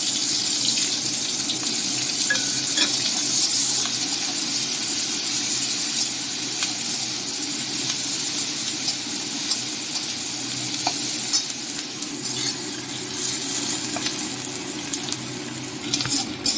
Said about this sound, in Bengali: দিয়ে দিচ্ছি পেঁয়াজ আর কাঁচা লঙ্কা